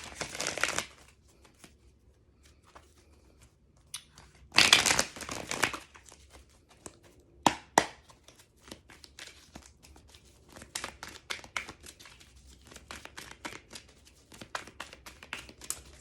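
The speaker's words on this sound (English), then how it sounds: "Just gonna shuffle these." Tarot cards are shuffled by hand in a quiet room, bursts of papery riffling and crinkling separated by pauses, with a louder flurry early on and scattered soft card flicks after.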